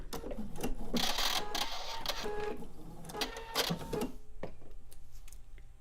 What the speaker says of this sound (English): I'm going to sew off the edge of the block.